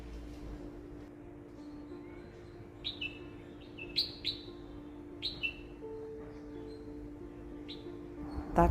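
A person whistling in imitation of bird calls during bird watching, short rising chirps and tweets spaced irregularly over a faint steady background hum.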